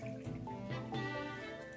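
Inexpensive sherry pouring into a glass in a kitchen, a soft liquid trickle and drip for under two seconds with a faint clink at the end.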